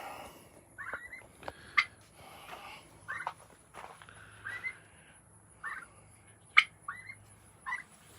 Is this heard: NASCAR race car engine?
no